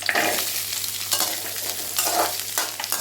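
Gooseberries (nellikai) sautéing with onion and garlic in a pan for a Tamil chutney, a steady close sizzle broken by scraping stirs about once a second, with no voices.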